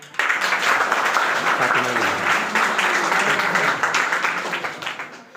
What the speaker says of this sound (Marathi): हिच्यासाठी जोरदार टाळ्या